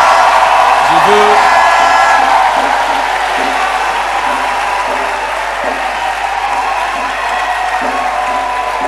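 A church congregation cheers and applauds at a worship service, a loud, sustained wash of clapping and shouting that fills the room for the whole stretch, with voices calling out over it.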